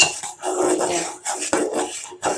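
Hot mango milk pudding mixture poured from a pan, with a run of scraping, clinking kitchenware sounds in short bursts, close and moderately loud.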